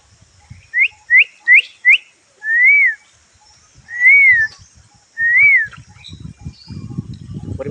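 A person whistles an imitation of a koel: four quick rising chirps, then three longer arching notes, clear and close in a quiet room, followed by low rustling and thumps.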